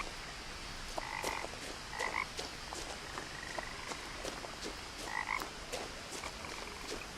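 Frog croaking beside a creek in the video game What Remains of Edith Finch, repeated short croaks in irregular bursts over a steady ambient bed of water and night sounds, with a few soft footsteps.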